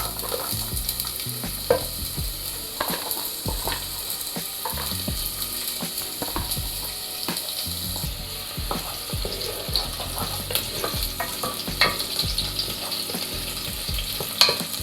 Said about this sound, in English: Two minutes or so of frying